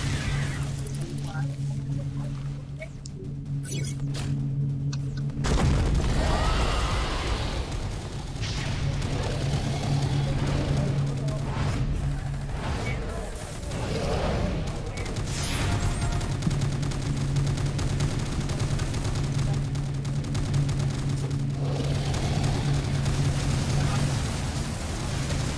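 Rapid bursts of gunfire from a shooting video game, with dense, overlapping volleys sustained almost throughout and a brief quieter stretch near the start, while a voice talks underneath.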